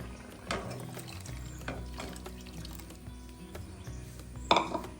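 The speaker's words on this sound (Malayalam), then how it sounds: "നല്ല കട്ടിയുള്ള തേങ്ങാപ്പാലും കൂടി ഒഴിക്കുകയാണേ." Thick coconut milk is poured into a boiling curry in a home kitchen, a soft, faint liquid trickle over a quiet simmer, with a sharp utensil clink near the end.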